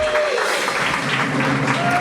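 Spanish-speaking church congregation gives a big round of applause during a Sunday service, steady dense clapping and crowd murmur filling the room, with a faint sustained tone underneath.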